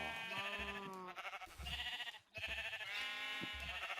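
Sheep in Minecraft bleat repeatedly in short, wavering cries, clear and close, with a few brief pauses between calls.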